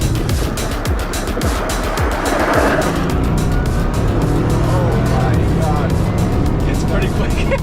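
A Bugatti Chiron Super Sport launches hard and keeps accelerating, its engine roaring loud and close with tyre noise under it while people in the car exclaim.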